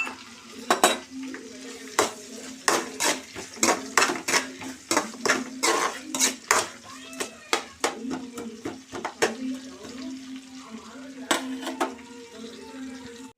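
Fenugreek, mustard seeds, cumin, onion and green chilli frying in oil for an egg gravy curry, with a spoon repeatedly scraping and knocking the pan in a busy clattering rhythm over a soft sizzle, close and fairly loud.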